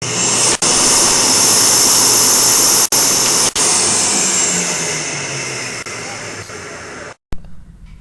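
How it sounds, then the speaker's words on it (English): Air at about 10 meters per second rushes out of a hose in a physics demonstration. The loud, steady roar has brief dropouts, fades slightly, then cuts off near the end. "Out of this hose, air is coming out at about 10 meters per second"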